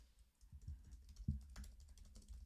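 Keys tapped on a computer keyboard while writing notes in a Notion planning page: a quiet, scattered run of soft clicks with one sharper keystroke near the middle, low in level and with no voices.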